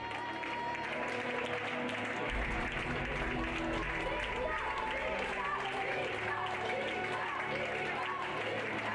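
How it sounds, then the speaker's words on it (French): Applause from a crowd at a pony eventing (CCE) award ceremony, steady clapping throughout with voices and crowd noise mixed in. "Vous pouvez les applaudir."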